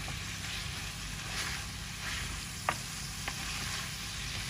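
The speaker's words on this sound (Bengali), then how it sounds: "আর একটু বটটা কষবে, কষার পর একটু জল দেবো" Goat tripe sautéing with garlic in a hot pan, a steady, fairly soft sizzle with a couple of faint clinks of a utensil, no voices.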